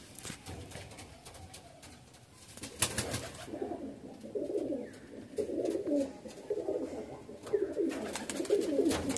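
A male Kamagar pigeon coos in repeated soft, rolling phrases from about four seconds on, near and moderately loud, with scattered clicks and handling noise around it.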